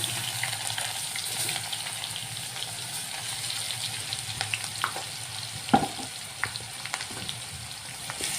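Chopped garlic cloves and green chillies fry in a pan with a continuous close sizzle, punctuated by occasional sharp clicks and clatters of stirring, and no talking.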